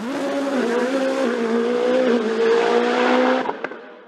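A Norma M20 FC turbo race car climbing a hillclimb course at Abreschviller–Saint Quirin, its loud, steady engine drone stepping through gear changes before cutting off abruptly near the end.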